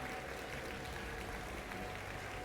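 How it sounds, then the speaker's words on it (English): An audience at the Pokémon World Championships 2024 finale applauds in a steady, even wash of clapping for the whole stretch, heard from a distance and fairly quiet, with no individual voices standing out. "So give yourselves a round of applause."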